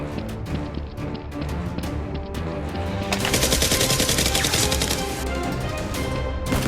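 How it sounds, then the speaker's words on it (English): Rapid bursts of close toy-gun fire in an outdoor Nerf war in an abandoned neighborhood, with sharp clacks in quick succession building into a dense, continuous volley. "One henchman fires wildly at SEAL X to give his companion a chance to escape with the weapons."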